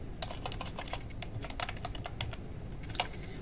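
Keys clatter on a computer keyboard as a search word is typed, a quick run of soft, close clicks over faint room hiss.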